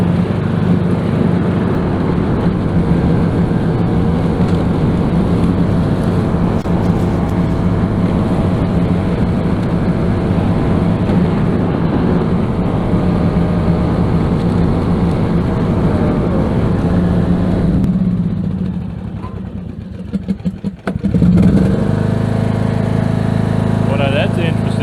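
Backyard lawn mower engine runs loud and steady with a constant low drone throughout, dipping briefly near the end before resuming at full throttle.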